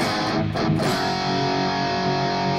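Electric guitar riff in the style of a song intro, played with reverb and delay, sustained distorted notes ringing out with echoing repeats, loud and alone.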